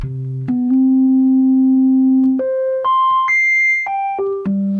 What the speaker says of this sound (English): let's go straight to sine wave